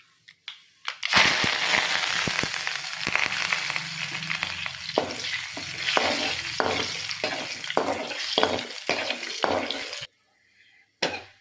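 Cumin seeds, turmeric and curry leaves fry in hot oil with a loud, crackling sizzle that starts abruptly, carries on with stirring scrapes, then cuts off near the end.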